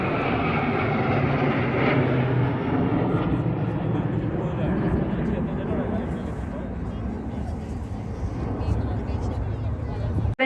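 Military aircraft of the Varuna formation roar overhead in a Republic Day parade flypast, a broad, loud rushing drone that fills the clip and slowly fades, with a commentator's voice under it.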